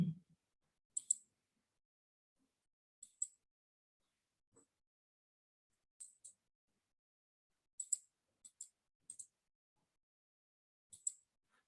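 Sparse, faint clicks of typing on a computer keyboard during an analytics practical, coming in small clusters of two or three taps separated by long pauses, with no talking.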